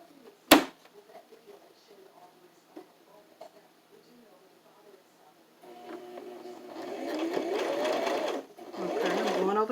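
A sewing machine stitches fabric and elastic for a homemade face mask. It starts after quiet talk and a sharp knock, then runs in a steady, loud whir with a brief pause.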